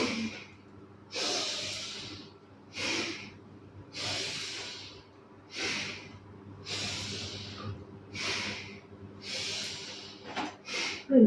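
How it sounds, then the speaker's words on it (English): Slow, deep yoga breathing, with about six drawn-out inhale and exhale cycles, each a soft airy rush close to the mic, steady and unhurried with no talk. "Breathing in and out, in and out."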